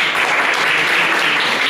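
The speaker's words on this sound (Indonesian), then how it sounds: "Aplaus buat beliau." A lecture audience gives a speaker a brief burst of applause, dense and even clapping from many hands filling the whole moment with no voices over it.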